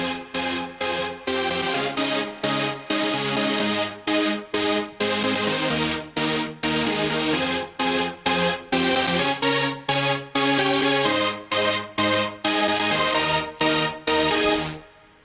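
A Serum supersaw lead with reverb and EQ plays a bright, dense chord pattern of short rhythmic stabs with brief gaps between them. It stays loud and full with no talking.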